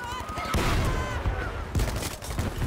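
Dense battlefield gunfire in Battlefield V, a continuous mix of overlapping shots and volleys at moderate distance, with voices talking over it.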